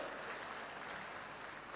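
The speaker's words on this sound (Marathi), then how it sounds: "एकदा जोरदार हात वरती करून जोरदार टाळ्या वाजवा" A crowd at a public event claps in a brief, dense burst of applause, steady and somewhat distant, with no voices over it.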